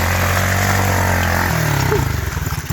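A pit bike engine idles loudly at close range with a steady drone, then picks up into a rapid pulsing putter as it revs.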